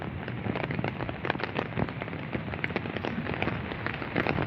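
Steady rain keeps falling after a heavy storm, a dense pattering hiss of drops striking surfaces with scattered louder ticks, continuous and fairly close with no voices.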